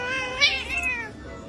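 A pet cat gives a single drawn-out meow, close and clear, rising then trailing off over about a second against quiet room noise.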